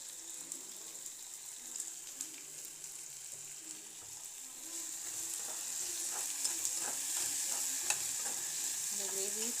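Tomatoes sauté in a pan for an egg and capsicum gravy, a low continuous sizzle with intermittent stirring scrapes that grow slightly busier over about ten seconds, close and fairly quiet.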